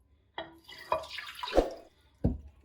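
Water is poured into sugar in a pan while making milk barfi, heard as a few separate splashes and drips, close and fairly quiet.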